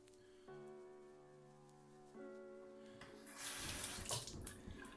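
Water from a tap runs into a sink during a wet shave, with a faint toned squeak, then a louder splashing gush as the flow strikes the basin briefly, close and quiet.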